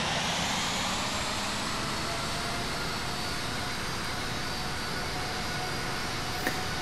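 Aircraft engine noise in the Infinite Flight simulator while taxiing toward the runway, a steady, even broadband roar and whine that holds at constant loudness throughout, with no talk.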